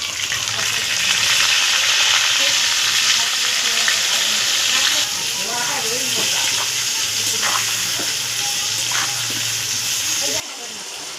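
Potatoes frying in hot oil with salt and turmeric give a loud, dense, continuous sizzle close by, easing slightly midway and dropping in level just before the end.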